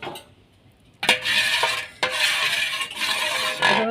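Milk being stirred in a metal pot to cool it and keep a skin from forming, heard as a utensil scraping and clinking against the pot in rhythmic sweeps, close and fairly loud, with no talking.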